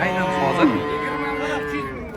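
A white cow lows at a livestock market where calves and cattle are being sold: one loud, close, drawn-out moo that slides down in pitch and then tapers off.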